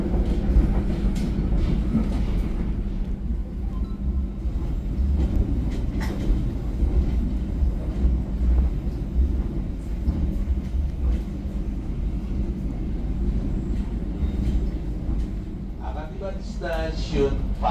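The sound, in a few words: passenger train running on rails, KA Pangandaran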